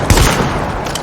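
Shotgun-style weapon in The Division firing, with a couple of sharp blasts near the start and then a dense, rumbling wash of sound that carries on through the rest of the moment.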